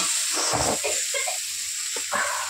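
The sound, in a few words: small jiol fish frying in oil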